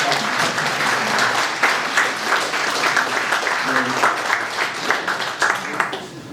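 A church congregation applauds during a Sunday Eucharist service at an Anglican cathedral, a dense, steady wash of many hands clapping at close range that holds throughout, with faint voices mixed in.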